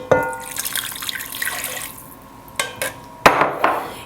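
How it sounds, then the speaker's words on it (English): Tap water runs into a pan while a roast duck sauce is being made, a continuous splashing stream with a few sharp clinks and bumps toward the end. "And then we're going to add our water."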